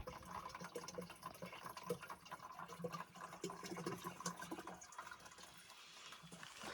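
Spring water from a small cave source in a hill village runs and splashes into a container, an uneven trickling gurgle that continues steadily at moderate loudness.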